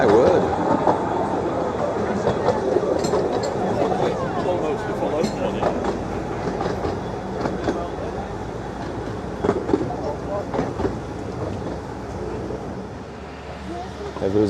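A Ravenglass and Eskdale Railway steam train pulls away from a station in the Lake District with steady rumbling and rhythmic clatter of wheels on the narrow-gauge track, close and continuous, with people talking over it.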